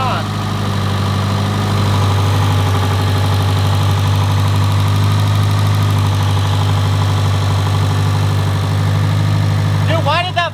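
A built big-turbo Subaru WRX STI idles just after its first start, a steady loud low rumble with a slightly uneven pulse that runs throughout, with a brief voice near the end.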